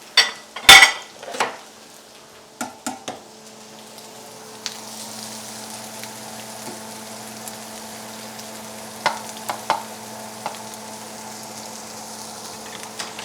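Spices fry in a hot pot with a steady low sizzle, after a few sharp metallic clanks and scrapes of utensils against the pot at the start and occasional stirring knocks later.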